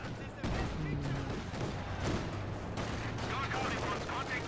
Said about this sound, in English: Will the Zisk gun kill the sniper eventually or not?